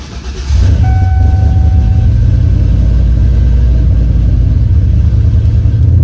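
A turbocharged Ford Mustang pulls away with a loud, steady engine rumble and drone that holds for several seconds, heard from inside the car, with a faint whine above the low growl.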